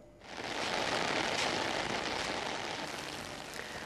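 Heavy monsoon rain falls in southern Bangladesh as a dense, steady hiss that swells in quickly and holds evenly, fairly distant and without voices.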